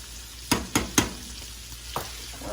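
Charro beans being stirred in a cooking pot, three sharp scraping knocks close together near the start and a lighter one later, over a faint steady background hiss.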